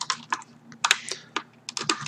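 A wired keyboard cable is pushed into its clip-in socket on a Ducky Shine II keyboard, giving several crisp plastic clicks and taps close by, with a louder snap near the middle, quiet and with no speech.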